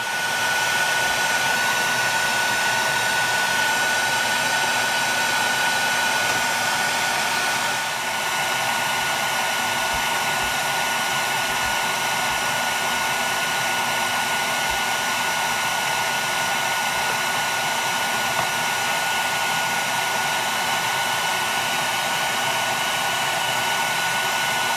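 A bee vacuum built from a power head on a 5-gallon bucket roars continuously and loudly at close range, a steady unbroken motor drone with no talk.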